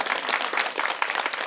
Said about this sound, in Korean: 박수 한번 쳐야죠.